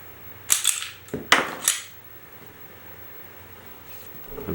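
A round being removed from a Beretta PX4 Storm Compact pistol: a few sharp, close metallic clacks and slide racks in quick succession, then quiet, with no talk over them.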